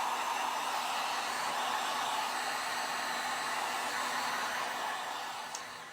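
A hair dryer blows steadily at close range to dry a stamped art piece, with a continuous loud whooshing roar that eases slightly just before it switches off.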